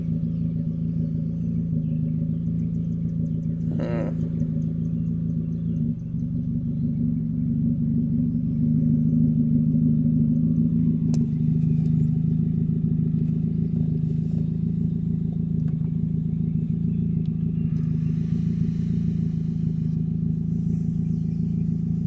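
Steady low idle of a 2000 Nissan Sentra engine, heard close and alone, the pitch sagging and then recovering with a faint clatter and a brief mechanical tick along the way.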